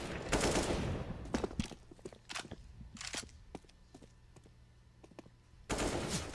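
Counter-Strike gunfire during a professional match between Faze and Astralis: automatic bursts and single sharp shots, loud and close, with footsteps between the volleys.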